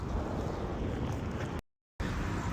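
Wind gusting steadily across a drifting fishing boat on open water, a continuous loud broadband rush with microphone buffeting, broken by a brief silent gap before resuming.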